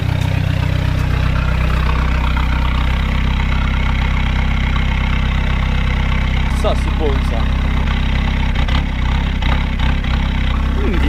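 A diesel car engine idles loudly and steadily with a low, rough rumble throughout, while someone briefly speaks over it.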